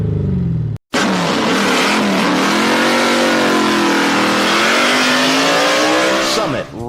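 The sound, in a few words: race car engine revving through electronically controlled exhaust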